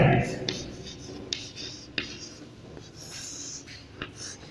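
Pen or pencil scratching on paper in short strokes and taps while working through a maths answer, close and fairly quiet, with breathing and occasional soft sounds.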